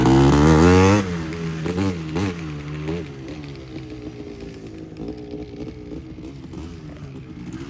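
A Yamaha Tri-Z three-wheeler with its engine left running, starting with a loud revving burst and then settling into an uneven, buzzy idle with a rattling tone that continues steadily.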